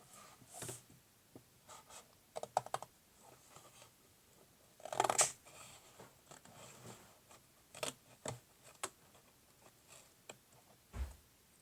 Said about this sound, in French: Donc moi, je suis plus à l'aise avec une paire de ciseaux qu'avec un cutter.